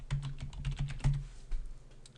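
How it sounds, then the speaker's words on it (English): A computer keyboard clicks through a quick run of about eight keystrokes as a password is typed, close and fairly quiet, with a last few taps after a short pause. "In this case, we're just going to type in my password"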